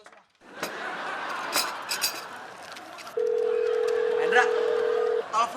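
A telephone gives a steady electronic tone for about two seconds, after a stretch of clattering dishes and cutlery and a few short knocks, with people talking nearby.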